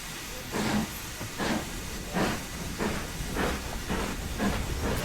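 Rhythmic bursts of hissing steam from a steam locomotive's brake release in Train Sim World 4, pulsing roughly every second over steady rail-yard rumble, fairly loud and with no voices.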